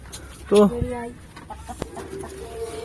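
A female pigeon makes a brief loud burst of calls, then after a sharp click a low, steady cooing hum carries on softly to the end, close by in a quiet room.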